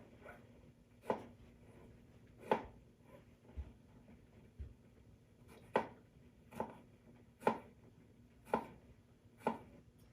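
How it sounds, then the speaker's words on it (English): A knife chops eggplant into quarter-inch pieces on a cutting board: about eight crisp, separate strikes at an uneven, unhurried pace over a low steady background hum, with no talking. "I like to cut the eggplant into 1/4-inch pieces"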